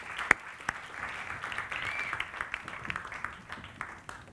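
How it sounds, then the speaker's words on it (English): Audience applause as contestants walk back onto the stage at a FameLab 2017 international semi-final science-communication event, moderately distant with a few sharper individual claps standing out. "Round of applause, please, as they come back."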